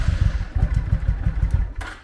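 Honda Shadow VT800 motorcycle engine cranking in a rapid rhythmic chug, then catching and starting, loud and close, with a brief higher burst at the end.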